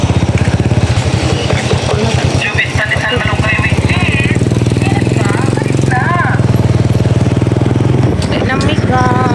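A motorcycle engine chugs and revs close by at a fish market in the early morning, steady and loud throughout, mixed with market bustle and voices.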